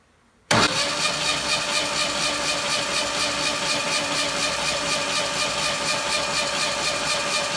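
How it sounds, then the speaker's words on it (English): After a brief silence, the engine of an old 1984 Pontiac Fiero catches and runs loudly and steadily, holding an even, close idle with a faint rhythmic pulse. "our not cranking engine has turned into a cranking engine."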